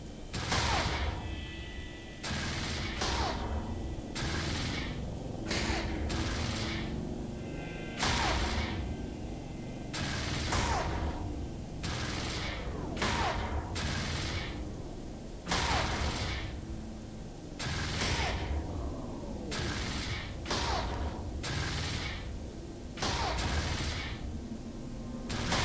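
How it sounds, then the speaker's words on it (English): Spaceship weapons firing on a target's shields in EVE Online, heard as repeated sharp blasts and bursts of impacts in irregular clusters over a steady low space-ambience rumble, moderately loud throughout. "So we're going to start shooting. We're going through the shields."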